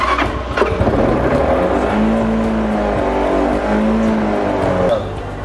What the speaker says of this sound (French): C'est une moto qui fonctionne à base de l'essence